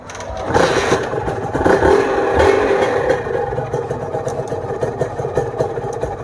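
A Honda NSR150SP motorcycle engine idling close by, a loud steady two-stroke burble with a brief rev rise near the start, then settling into a continuous rough idle with a faint scraping texture.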